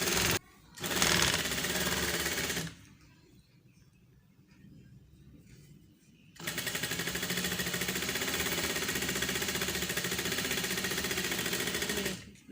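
Sewing machine stitching the corner of a shirt sleeve, running in a short loud whirring burst, then a quieter lull, then a longer steady fast-stitching run close to the microphone.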